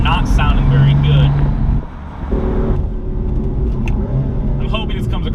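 BMW M4 Dinan S2 with S55 engine heard from inside the cabin, a loud steady engine drone that dips briefly and then settles to a lower hum, with a person speaking over it.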